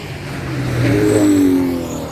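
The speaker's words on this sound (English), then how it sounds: "in these two cars we're watching at the moment, transporting the V8 around the track" Front-engined V8 classic racing cars lapping Knockhill Racing Circuit during a Scottish Classic & Saloons Championship race, engines swelling into a loud revving pass as they accelerate around the track.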